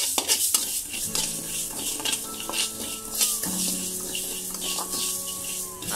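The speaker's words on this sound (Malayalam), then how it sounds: "ഇത് നമ്മൾ ആ ചൂടാവാൻ വെച്ച ചട്ടിയിലേക്കിട്ട് ഒന്ന് വറുത്തെടുക്കാം." Mustard, cumin and fenugreek seeds roast in a hot pan with a steady dry sizzle, while a spoon scrapes and stirs against the metal in repeated close clinks.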